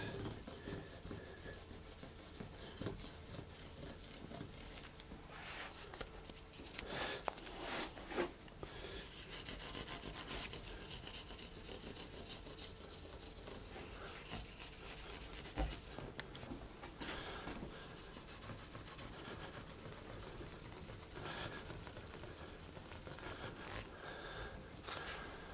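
A file scrapes along the fret ends of a guitar being re-fretted, in repeated rasping strokes with brief pauses, close and fairly quiet, with no speech.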